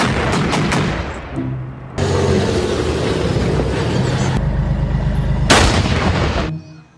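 Rapid bursts of toy tank gunfire with booming blasts, loud and continuous, electronic-sounding effects layered over a steady low rumble.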